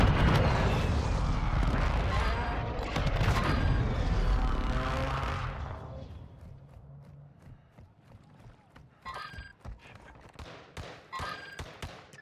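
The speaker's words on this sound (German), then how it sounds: "Verbündeter Luftschlag unterwegs." An allied airstrike arrives in a video game as a loud, rushing roar with rumbling impacts that fades after several seconds, followed by scattered sharp pops and thuds.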